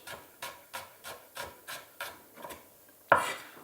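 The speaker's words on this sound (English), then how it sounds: "cut the onion into small rings" A knife chops an onion into rings steadily on a wooden board, about eight even strokes, ending in a louder knock.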